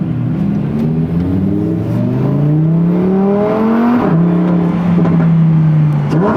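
Supercar engine revving hard under launch control, a loud, close, sustained growl that climbs in pitch, dips and climbs again, heard alone without talk.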